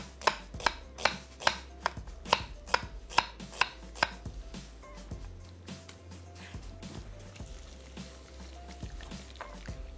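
A knife chops onion on a board in a home kitchen, a quick run of about a dozen sharp, evenly spaced, fairly loud chops that then give way to softer, scattered knocks and low kitchen noise.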